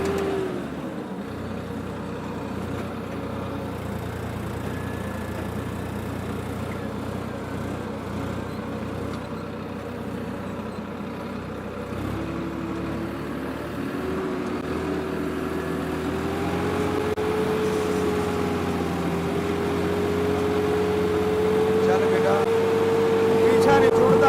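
A tractor engine drones steadily while turning on an organic farm, a low, continuous hum that grows slightly louder and rises in pitch toward the end, with people talking over it.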